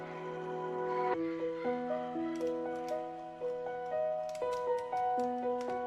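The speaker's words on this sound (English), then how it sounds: "When that piano reverse pad hit rather cuts off, the piano comes in immediately" A sustained reverse-swelling pad cuts off abruptly, and a piano immediately enters with a sequence of clear, stepping notes.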